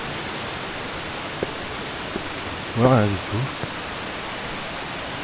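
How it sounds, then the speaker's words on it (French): A small waterfall in Chiang Mai rushes in a steady, broadband hiss throughout, while a person briefly speaks over it partway through. "Une très jolie petite cascade."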